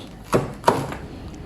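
Two sharp, crunchy knife cuts through crispy pork skin land close by, one after another, then quiet.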